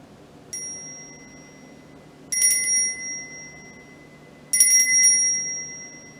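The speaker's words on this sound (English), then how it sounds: "The sound of a bell helps to break up any cruddy energy in the air." A small hand bell rings three times, each a clear bright ding that slowly fades, spaced about two seconds apart in a quiet room.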